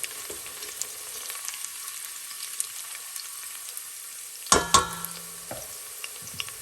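Garlic frying in oil in a pot for curry aubergine, a low steady sizzle with sharp clinks of a utensil against the pot midway and a few small taps, no talking.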